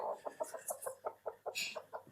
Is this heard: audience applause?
no